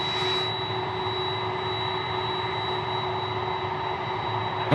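A Qatar Airways Boeing 767 taking off at night at Sydney Airport, a continuous loud jet engine roar with a steady whine, heard from the airport fence.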